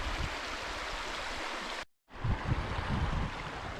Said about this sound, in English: we're now navigating up the river on the pebbles